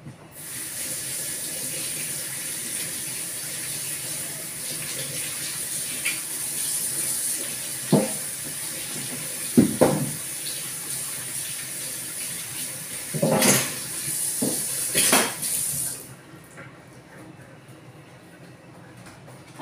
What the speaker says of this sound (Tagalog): Ugasan muna.